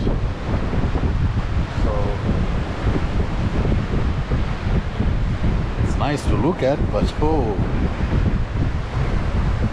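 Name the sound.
waves and wind on the Atlantic Ocean shore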